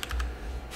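A computer keyboard being typed on while entering a formula in CAD software: a quick burst of several close, crisp key clicks in under a second.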